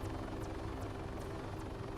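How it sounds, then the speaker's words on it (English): A helicopter flies in the Arma 3 video game, a continuous close rotor drone with a steady rhythmic blade thump and engine whine, no talk. "Helicopters are able to maintain extremely low-level flight with an experienced pilot."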